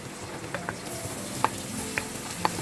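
Green mango pieces drop into hot oil with panch phoron spices and salt for a mango pickle, giving a steady close sizzle with a few sharp pops and clicks over it.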